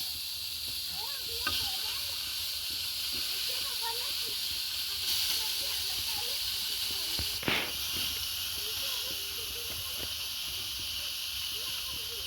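Diced tomatoes sizzling on a hot tawa without oil, a constant close hiss with faint crackles running steadily throughout, and one brief knock partway in.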